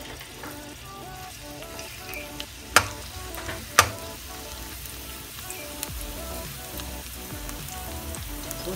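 Garlic fries in oil with a soft, steady crackle and spatter, and two sharp knocks cut through the quiet sizzle.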